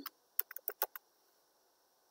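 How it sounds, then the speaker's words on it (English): Typing on a computer keyboard, a quick burst of about six or seven crisp, close key clicks in uneven rhythm, then near silence with one faint final tap. "stop typing, that's fine"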